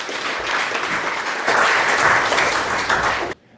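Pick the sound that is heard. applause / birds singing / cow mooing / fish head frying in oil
applause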